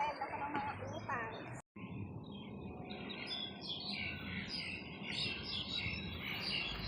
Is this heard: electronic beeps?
no